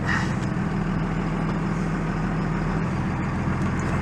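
A car with a newly installed rear wheel speed sensor and a possible wiring problem is out on a short test drive, its engine and road noise forming a steady, loud rumble with no break.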